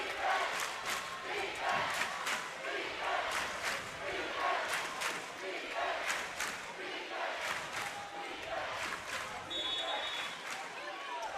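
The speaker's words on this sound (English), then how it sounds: "the most justice we can do for it is to let the crowd speak for themselves" A packed gym crowd at a boys' Elite 8 basketball game roars and cheers continuously, with rhythmic shouts and swells of noise rising and falling across the whole stretch.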